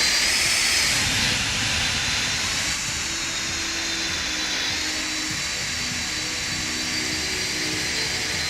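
Steady roaring jet engine noise from a 747-200 landing at Kai Tak in a flight simulator, a loud continuous rush with a faint shifting whine, no voices.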